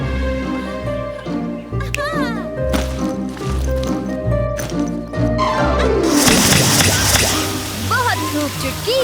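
A cartoon water-fountain trap sprays water: after a run of bright musical tones and quick effects, a loud broadband gushing hiss bursts in and keeps spraying to the end, with zany sweeping sound effects over it.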